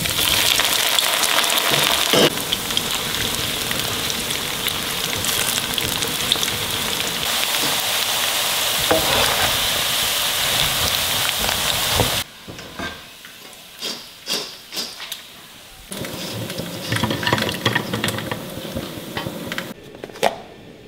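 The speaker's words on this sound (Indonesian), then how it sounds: "goreng tempe sama pete" Tempeh and petai stink beans frying in hot oil, a steady loud sizzle with crackling that later drops to quieter intermittent spitting and bubbling.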